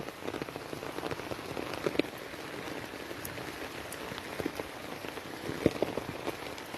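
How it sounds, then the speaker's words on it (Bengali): Heavy monsoon rain falls on a roadside where water is rising, a continuous dense patter with occasional sharper drops close by. "প্রচুর পরিমাণে বৃষ্টি হচ্ছে"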